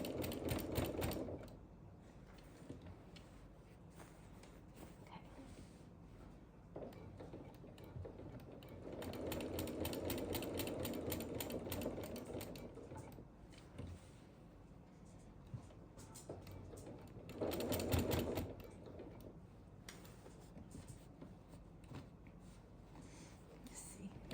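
Sewing machine stitching layers of a baby quilt, with quiet rapid mechanical whirring bursts that start and stop several times, alternating with soft speech and faint handling noise at low level.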